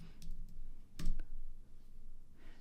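Computer mouse clicks while working in After Effects: a few soft, quiet clicks with one more distinct click in a near-silent room.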